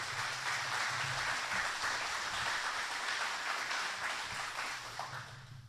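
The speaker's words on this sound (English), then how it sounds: "I know you've already given him a round of applause, but do it again" An audience at a State of the Cities and County address applauds steadily for about six seconds, a dense, even wash of clapping at moderate distance with no speech over it.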